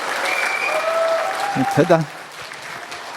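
Applause from an audience at a Rotary training session, moderate and diffuse in the background while someone speaks briefly over it before it fades out.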